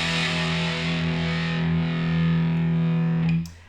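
Sustained electric guitar feedback from a song's intro: a loud, distorted wall of steady droning tones that holds for over three seconds, then cuts off abruptly near the end.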